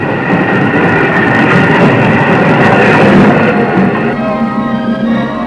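Boat trains from London roll into an ocean terminal in 1959, a loud continuous rumble of rail cars with dense rattling and clatter that stays steady and close, a faint whistling tone entering toward the end.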